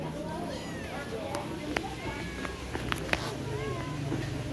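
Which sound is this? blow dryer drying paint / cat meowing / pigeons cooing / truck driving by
cat meowing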